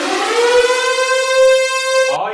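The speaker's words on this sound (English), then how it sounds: "Sound the anniversary siren!" A siren sound effect rises and holds a loud, steady wailing tone for about two seconds before cutting off abruptly.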